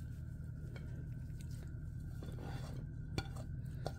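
Chopped coriander stirred by hand into a chicken and vegetable kebab mixture in a bowl, a soft, quiet squishing with a few light clinks of utensil against the dish.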